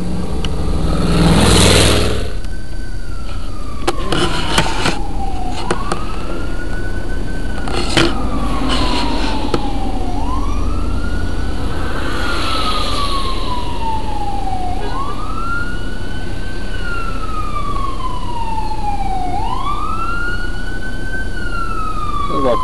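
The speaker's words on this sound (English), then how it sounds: "Ambulance." An ambulance siren wails during a tornado response in Pleasant Grove and North Hueytown, Jefferson County, Alabama, with repeated rising-and-falling sweeps, loud and steady across the whole stretch, over outdoor noise and a few sharp knocks.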